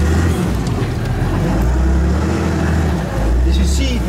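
A Defenture armored SUV, a £350,000 4x4, drives with a loud, steady low engine rumble that swells as it revs near the end, while excited voices talk over it.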